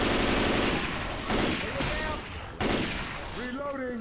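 Bursts of gunfire from Left 4 Dead 2, a zombie co-op shooter: loud, close volleys with sharp attacks that return in waves, and characters' voices calling out between the bursts.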